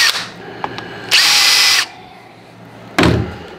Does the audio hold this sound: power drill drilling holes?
yes